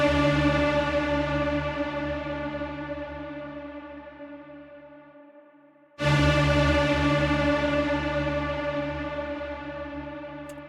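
Soloed aggressive synth signal sounds for a heavy music mix, a thick buzzing tone with a heavy low end sustaining and slowly fading, cut off briefly, then striking again and decaying.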